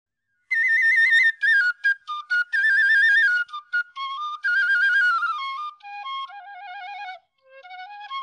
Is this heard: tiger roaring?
no